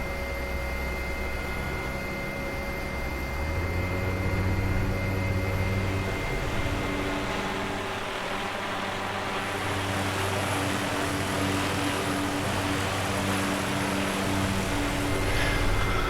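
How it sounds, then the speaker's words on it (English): Helicopter turbines in the Prepar3D flight simulator spool up, a steady broadband engine roar with rising tonal whine layers that climb and thicken as rotor RPM builds, continuous and loud throughout. "turbines coming up nicely, power's coming up nicely"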